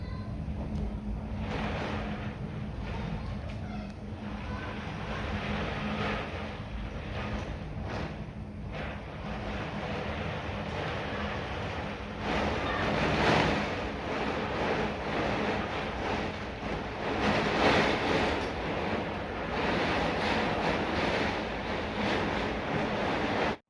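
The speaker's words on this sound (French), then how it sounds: "il y a une tempête aux Émirats" Strong storm wind roars outside a window in Sharjah, United Arab Emirates, a continuous rushing howl that swells louder in gusts partway through, with no speech.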